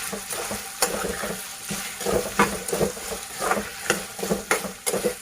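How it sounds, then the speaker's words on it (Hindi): Ginger garlic paste is stirred into fenugreek (methi) potato curry in a hot pan. A continuous sizzle is punctuated by frequent rhythmic spatula scrapes and knocks, close up, with no speech. "फिर उसके बाद दोबारा इसको इस तरीके से घुमाएंगे और उसके बाद 1 टीस्पून जिंजर गार्लिक का पेस्ट इसमें अच्छे से मिक्स करेंगे"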